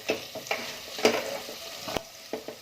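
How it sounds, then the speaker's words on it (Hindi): Cashews and spices stir-fried in a pan for curry leaves pulao produce a soft sizzle punctuated by several close scraping and clinking stirs of a spoon, with no talking. "अच्छे से मिक्स करेंगे और इन सब चीज़ों को अच्छे से भून लेंगे"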